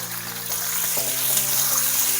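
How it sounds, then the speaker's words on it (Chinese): Celery stir-fried in hot oil with ginger, garlic and small chili peppers for a celery beef dish, a loud, steady sizzle and crackle close by, continuous throughout, with a brief scrape of a utensil. "油热，放入生姜、大蒜、小米辣， 然后给它爆香，然后放入咱们的香芹"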